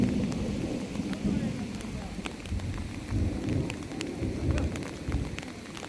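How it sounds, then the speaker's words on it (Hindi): Hail and heavy rain pound the ground near a mountain lake by a glacier, a dense steady clatter with low rumbles of thunder running underneath throughout. "ज़ालाबारी स्टार्ट हो चुकी है।"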